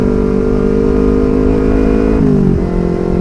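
A motorcycle fitted with a loud aftermarket racing exhaust (knalpot brong) drones steadily and close, its harmonic engine note holding constant before dipping and shifting pitch near the end, with no voices over it.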